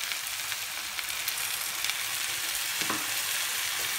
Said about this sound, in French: On rajoute notre ail et notre vin blanc, 20 centilitres.